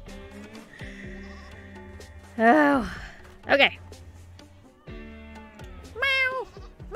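Synthetic animal bleats and cat-like meows from zoo animals in the colony-building video game RimWorld, several short pitched calls rising over a quiet game soundscape, with a person briefly speaking.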